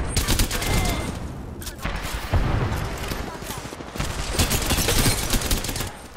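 Rapid bursts of automatic gunfire in an Apex Legends match, dense and loud, with repeated volleys and impacts running almost nonstop across the stretch, occasionally dipping briefly before resuming.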